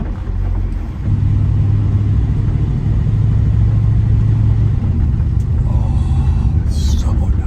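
A car with an automatic transmission pulls away under light throttle, its engine rumbling steadily close by with a smooth rise in pitch as it gathers speed and shifts, while a faint voice comes in near the end.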